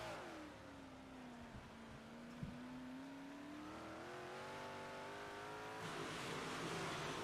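Dirt track race cars run at Kokomo, engines droning and whining through the corners as pitch rises and falls with the throttle, heard from a distance as a steady, blended roar.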